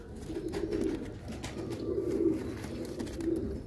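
Caged pigeons coo in repeated soft, rounded phrases, close and moderately quiet, with no talking over them.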